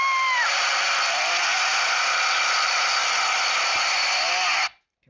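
An animated engine being cranked up like a lawnmower, a loud buzzing motor whine that rises in pitch as it starts, holds steady, then cuts off abruptly into silence.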